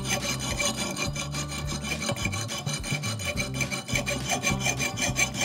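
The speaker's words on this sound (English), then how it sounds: "this is the perfect device for sharpening an axe." An axe being sharpened with a hand-held sharpening device that sets the edge angle gives a steady, continuous rasping and rubbing scrape of metal. It runs loud and close throughout, with a repeated back-and-forth rhythm and no talk.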